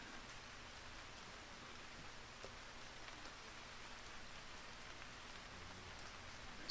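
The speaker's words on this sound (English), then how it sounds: "it went ahead and started making it rain" Rain falling in a base-defense video game, a faint, steady hiss of raindrops spattering on surfaces, unbroken and quiet with no voices.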